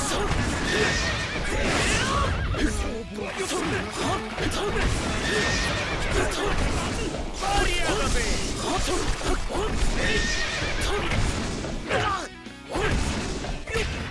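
A horse neighs and whinnies repeatedly in the JoJo's All Star Battle R fighting game, mixed with crashes, hits and hoofbeats in a dense, loud stream of game sound effects, with some talk over it.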